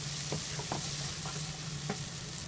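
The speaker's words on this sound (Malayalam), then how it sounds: "ഈ തക്കാളി ഹാഫ് കുക്കായി വരണം അതുവരെ നമുക്കിതിനെ ഒന്ന് വഴറ്റാം" Tomato sautéing in a pan with salt for bread upma, a soft steady sizzle under a low hum, with a few sharp spatula strokes tapping and scraping at irregular intervals.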